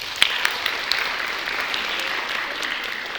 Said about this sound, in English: round of applause for Ms. Knox